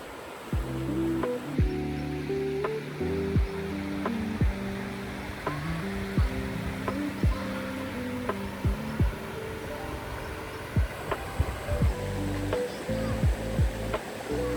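River water rushes and burbles steadily on a farm visit as rain begins, a broad continuous wash close by with music playing over it throughout.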